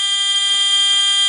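A buzzer on a fischertechnik driving robot sounds one steady, loud, shrill electronic tone held without a break, close and alone.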